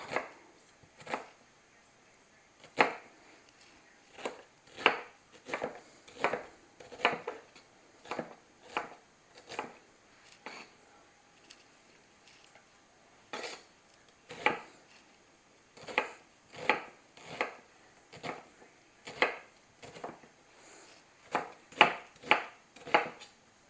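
A knife chopping salsa vegetables on a cutting board, dozens of crisp, close thuds in uneven bursts with short pauses between runs, with no talking.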